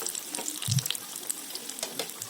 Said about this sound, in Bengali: তো বাকি কয়েকটা লঙ্কা আমি কিন্তু একইভাবে ভেজে নেব